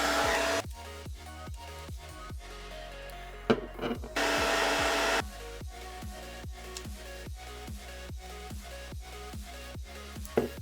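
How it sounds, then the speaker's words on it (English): A steady hair dryer whir blows in bursts while heating computer mouse skates, with a string of quick, evenly spaced clicks or taps running through it up close. "no longer need the hair dryer"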